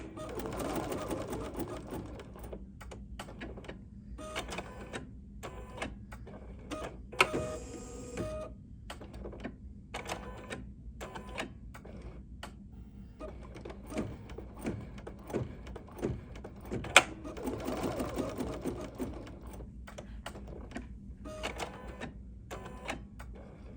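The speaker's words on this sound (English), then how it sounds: "these are little placement stitches that are going to stitch for when I put our plain piece of vinyl in" An embroidery machine sews placement stitches for a vinyl wallet project, giving a steady run of quick mechanical needle chatter in short repeating bursts with brief pauses, close and moderately loud with no talking.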